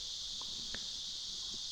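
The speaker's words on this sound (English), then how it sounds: "most of the trees here now they are full of these cicadas." Cicadas in the jungle trees of Tadoba Andhari Tiger Reserve produce a steady, high, continuous buzzing drone, faint and unbroken, with no voices.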